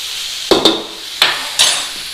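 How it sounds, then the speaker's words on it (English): Garlic and ginger sizzle in a hot frying pan while a utensil stirs them in, four sharp scraping clacks against the pan over a faint steady fry, close and without talk. "Get our garlic and ginger in there. Stir that in."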